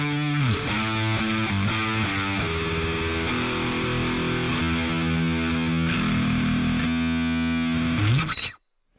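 Distorted high-gain electric guitar playing single-note classic rock riffs through a VOX Cambridge50 amp, loud and sustained throughout with a stadium-style tone, then cutting off abruptly at the end.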